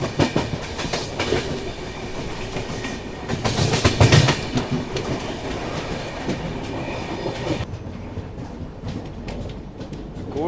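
The Rapti Sagar Express rolls along the rails in steady rhythmic clickety-clack, the wheels loud and close with a surge of rumble midway, then settling into a duller, quieter run toward the end; no voices.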